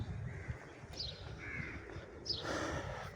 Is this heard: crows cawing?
yes